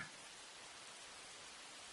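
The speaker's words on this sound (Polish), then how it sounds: "Deszcz pada i ciągle pada." Steady rain falls outside a home with a balcony, a continuous even hiss of dense drops with no pauses, heard alone at low level.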